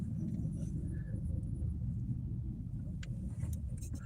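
A car drives along steadily, its low road rumble and engine drone filling the space from start to finish with no one talking.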